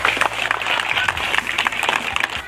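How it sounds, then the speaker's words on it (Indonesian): A school crowd claps at an anti-corruption awareness assembly at an Indonesian elementary school: dense, steady applause fills the whole stretch at moderate loudness, with a faint low hum underneath. "Tepuk tangan untuk Pak Cek."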